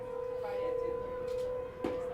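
Sirens going off during a baseball game, a steady sustained wail holding a constant tone throughout, carrying across an outdoor ballpark with faint crowd ambience and a brief sharp sound near the end.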